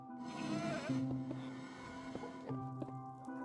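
A Minecraft goat gives drawn-out, wavering bleats close by, with a few short clicks and soft game noises in between.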